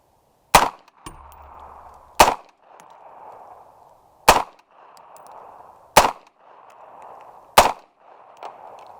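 Unsuppressed rifle shots in 5.56x45mm and 5.7x28mm, five sharp cracks spaced about one and a half to two seconds apart, each followed by a lingering ringing echo, with no talking between them.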